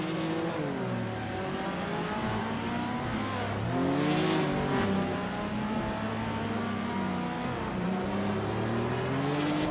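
Race cars in a racing video game, including a 1972 Maserati Bora Competizione, drone steadily with engine pitch rising and falling through gear changes, a continuous loud mix of several cars running together without pause.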